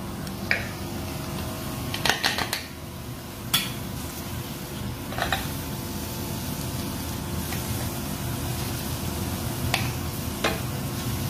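Crushed steamed corn being stirred in a hot pan for a veg cheese corn franky filling, with a soft continuous sizzle and a few sharp spoon scrapes and taps against the pan, close and alone.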